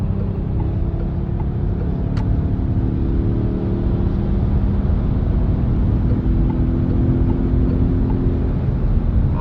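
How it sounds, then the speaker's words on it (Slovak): A car with a 1.2-litre engine at full throttle, accelerating on a highway toward 130 km/h. A loud, steady engine and road drone runs throughout with no talking. "tak sa poďme pozrieť na to, ako to zrýchluje. Ja dávam podlahu."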